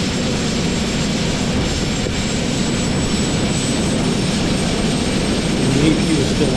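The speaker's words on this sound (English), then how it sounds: "and then he'll advance the second engine" Twin aircraft engines spooling up for takeoff with the auxiliary power unit still running, a loud, steady roar that holds throughout and swells slightly near the end.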